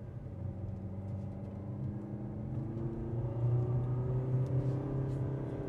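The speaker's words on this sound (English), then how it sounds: "there is a bit of a snarl to the engine" A Buick Encore compact SUV engine hums steadily, then its pitch climbs as it accelerates, a low, slightly snarling growl rising over road rumble.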